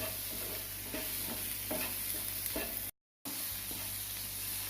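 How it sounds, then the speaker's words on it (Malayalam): Tomatoes sautéing in a pan with turmeric and chilli powder for a Kerala-style anchovy fish curry, a steady close sizzle broken by stirring scrapes, with a brief silent gap partway through. "ഇനി ഇതിലേക്ക് നമുക്ക് ഈ തക്കാളി ഇട്ട് കൊടുക്കാം. ഇതും കൂടി നല്ലപോലെ ഒന്ന് വഴറ്റിയെടുക്കട്ടെ"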